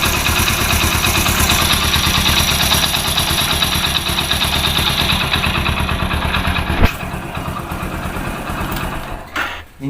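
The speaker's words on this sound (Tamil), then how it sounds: "இன்னும் ஆஃப் இன்ஜின் வந்து சவுண்டு பாருங்கள்" A Hero Splendor Pro motorcycle engine idles after half engine work, with a loud, steady, even close-range putter that falters and cuts out near the end.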